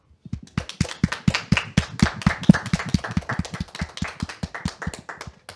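A room full of people breaks into a strong round of applause for a guest at an evening talk gathering, steady close-up clapping lasting several seconds and fading at the end, with no voices over it.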